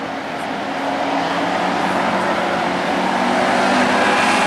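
Factory stock race cars circle the dirt oval at Perris Auto Speedway in a heat race, a dense, steady roar of several engines that holds loud and continuous throughout, with no voices.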